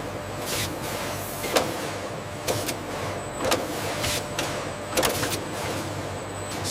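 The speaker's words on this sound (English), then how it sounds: "Gigantic multi-lane coring machines efficiently prepare freshly harvested lettuce for packaging." Multi-lane lettuce coring machines process freshly harvested iceberg lettuce heads in a salad factory, a steady mechanical hum broken by periodic whirring thuds roughly every second, moderately loud with no talk.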